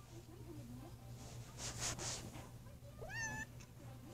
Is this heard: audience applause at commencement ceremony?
no